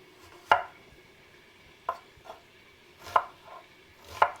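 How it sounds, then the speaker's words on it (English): A knife chops through onion on a cutting board, sounding as four or five distinct, crisp thunks spaced unevenly, close and clear against a quiet background. "Another little tip for cutting onions is once you get them cut to this stage, you can just turn them and cut them this way."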